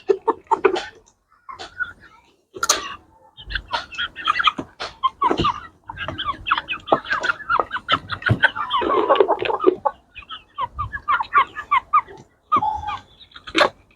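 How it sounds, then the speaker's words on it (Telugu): Farm chickens raised for eggs cluck and squawk nearby in short irregular bursts, with a few louder calls among them and some other faint sounds in the background. "కోడి చూడండి ఫ్రెండ్స్"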